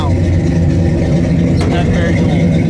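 A 1968 Chevelle's 350 V8 rumbles steadily at close range, a deep continuous engine note with a brief sharper rise partway through.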